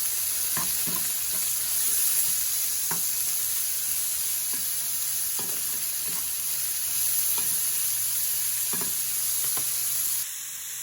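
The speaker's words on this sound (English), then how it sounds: "I have my onions going with pepper and mushrooms with the garlic." Onions, peppers, mushrooms and garlic sizzle quietly in a pan with Montreal steak spice, a constant soft hiss punctuated by light taps of a stirring utensil before the sizzle drops off at the end.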